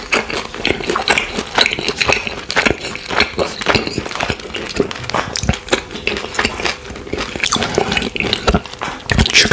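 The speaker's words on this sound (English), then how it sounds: "See the oil dripping." Crunchy baked sliced chicken legs and thighs glistening with oil, heard as dense close-up crackling and crunching with wet, dripping ticks, steady and busy throughout with no talking.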